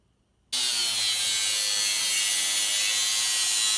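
A metal exhaust header being cut with a power tool: after half a second of quiet, a loud, steady, hissing buzz starts abruptly and runs unbroken to the end, close and alone.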